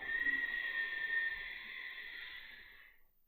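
A single long, breathy exhale, a soft airy hiss close by that tapers off into silence.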